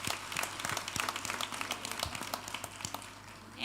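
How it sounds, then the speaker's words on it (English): A graduation audience applauds, a dense steady patter of many hands clapping at moderate distance, rising slightly at the very end. "I would like the graduates to give a round of applause to those people who helped you get here."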